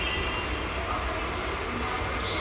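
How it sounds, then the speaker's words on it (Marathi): A passenger train heading toward Panvel rumbles steadily from inside the carriage, a constant roar of wheels and wind with no distinct breaks. "ट्रेनमध्ये बसलो आहे,"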